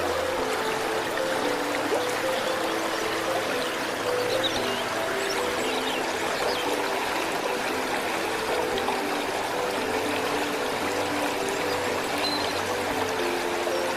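Steady river current flowing along a riverbank, a continuous close wash of running water with light trickling detail and no talk.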